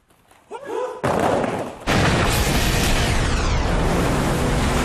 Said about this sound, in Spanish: Ahora estamos practicando la caída de frente